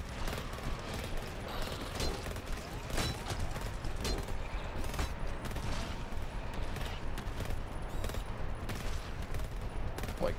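Automated turrets in the GTFO video game fire at enemies in rapid, continuous bursts of gunfire, dense and sustained, with clattering mechanical sounds mixed in and occasional voices in the background.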